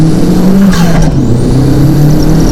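A home-built Audi A3 with a 1.8-litre turbo engine pulls hard in first gear, its loud engine note rising steadily and droning close up throughout, with no talk over it.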